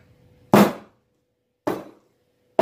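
A cake pan of pumpkin spice cake batter knocked down onto a kitchen counter to settle it, three sharp separate thuds roughly a second apart, close and loud with silence between.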